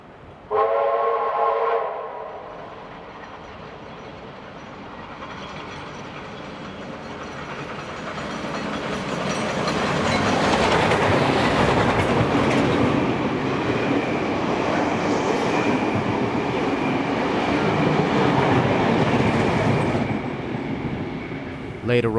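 Locomotive 4403 hauling a train at speed past Hawkesbury River, New South Wales, opening with a brief whistle before a loud, sustained roar and rumble of passing wagons that swells and holds.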